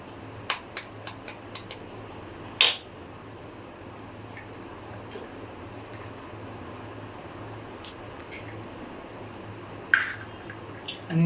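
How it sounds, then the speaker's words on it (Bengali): A single sharp crack at an egg, then soft wet squishing and clicks as it is mixed with onion and chili at home, faint and sparse over a quiet background. "আর এখানে যে একটা ডিম আছে এটা ফাটিয়ে নেব।"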